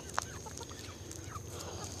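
Chickens at an off-grid farm coop cluck faintly in the distance, with one brief sharper cluck standing out over quiet outdoor ambience.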